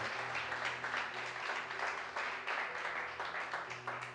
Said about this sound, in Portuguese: Dê uma salva de palmas ao Senhor por isso